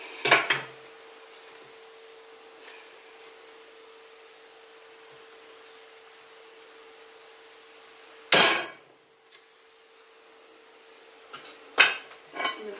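Nails are hammered into a wooden beehive frame in a few sharp, loud strikes: a single bang near the start, a heavy blow later, then a quick cluster of knocks, with quiet stretches and a faint steady hum between them.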